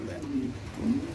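Mundian pigeons on a farm give two soft, low coos, one after the other, close by with a steady background hum.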